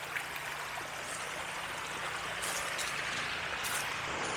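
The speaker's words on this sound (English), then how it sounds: "You see it running down this hill. We're literally making our own little river." Rainwater from a flooded pond pours down a hill in a self-made stream, a constant close rushing and gurgling wash with no voices, steady and broadband throughout.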